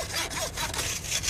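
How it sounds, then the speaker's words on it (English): A saw cuts through a bison bone in short rasping strokes, close and moderately loud, over about a second with no voices. "By sawing apart one of its bones, they can examine the condition of the marrow"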